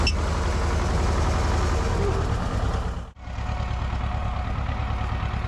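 A T-25 tractor engine runs steadily at close range with a low, thumping idle, briefly cutting out for an instant before carrying on, with voices speaking over it.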